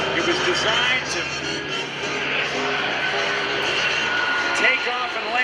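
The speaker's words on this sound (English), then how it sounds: "Coming in from the left right now is the Curtiss SB2C Helldiver." A Curtiss SB2C Helldiver, a big carrier-based dive bomber, drones steadily past at an air show open house, its engine roar broad and continuous throughout while an announcer talks over it.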